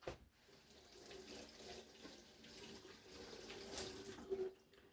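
Cold water runs steadily from a tap into a bowl for cooling mozzarella, a soft continuous splashing rush heard fairly faintly with no voices.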